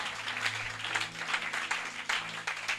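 A church congregation applauds at a spiritual warfare sermon, a steady wash of clapping with uneven surges, moderately loud and continuous, with a low hum underneath.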